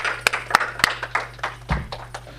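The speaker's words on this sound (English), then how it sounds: "So with your big round of applause, let's welcome Mara Ahmed" A screening audience claps to welcome a speaker, sparse scattered handclaps from a modest crowd with a few sharp nearby claps standing out, fairly faint and thinning over a couple of seconds, no talking.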